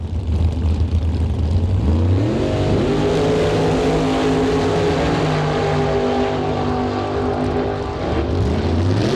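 A 1948 Austin drag car with a 512 big block engine accelerates hard down the strip, a loud continuous roar with rising engine tones through gear changes, close and unbroken.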